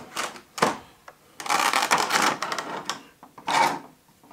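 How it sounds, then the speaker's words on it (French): Packaging for a special edition item being unboxed, with bursts of crinkling, rustling and tearing across several seconds, close and fairly loud, with brief pauses between handling. "Donc on va les déballer pour voir ce que ça vaut."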